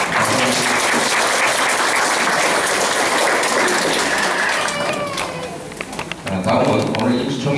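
Audience at a Korean redevelopment association general meeting applauding, a dense sustained burst of clapping from many hands that tapers slightly toward the end, with voices mixed in.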